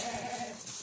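A single short bleat from Tatali breed lambs, young breeding stock, heard fairly faintly as a brief wavering cry with no talking over it.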